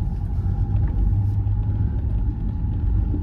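A Ford Transit camper van rolls through a car park, giving a steady, close low rumble of engine and tyres that holds level for a few seconds with no talk.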